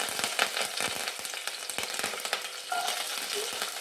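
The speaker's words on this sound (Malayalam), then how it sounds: "അപ്പോൾ ഇത് ഞാൻ ഈ കറിവേപ്പില അതിലേക്ക് ഇട്ടു" Curry leaves crackle in hot oil with a dense, bright sizzle and scattered sharp pops, close up and steady throughout, with no voices.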